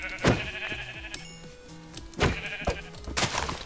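Sheep bleating in Minecraft, several wavering bleats close by, one near the start and another around the middle, over a low melodic game background.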